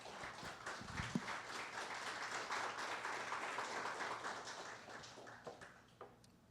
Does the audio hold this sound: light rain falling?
no